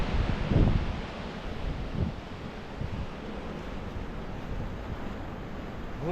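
Sea surf at Gopalpur heard from a hotel rooftop, a steady broadband wash mixed with wind buffeting the microphone, with a couple of slightly louder surges early on and no talking.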